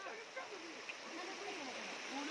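Rushing river water fills the scene with a steady broadband hiss and gurgle during a fishing outing, constant and fairly close with no talk.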